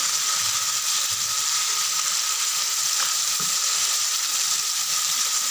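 Ground spices, chili powder, cumin and coriander frying in hot oil for village cooking, giving a steady, close, continuous sizzle and crackle with faint stirring taps throughout, no voices.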